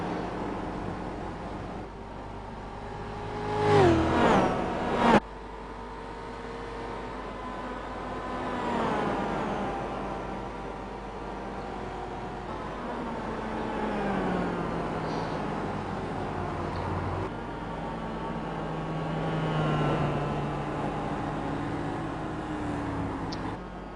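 Ford Mustang and Mazda MX-5 race cars lap Lime Rock Park, their engines droning and shifting pitch as they pass at moderate distance, with a louder burst early on and a steady hum of racing afterward.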